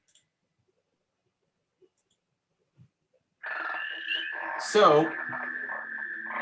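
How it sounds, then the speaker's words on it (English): Recorded calls of spring peeper frogs, a dense chorus of high whistled peeps that swells in suddenly after a quiet stretch, played back with a brief word spoken near the start. "the spring peepers, which are the middle of March, just started 3 days ago out in my backyard."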